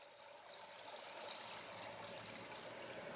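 Water runs steadily as a leaking second-floor toilet tank refills after a flush, a soft continuous hiss and trickle, faint and unbroken, with no voices.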